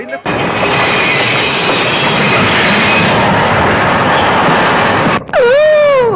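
Train running at speed, loud and close, a continuous heavy rumble and wheel clatter for several seconds, ending in a brief cut followed by a wavering tonal whine.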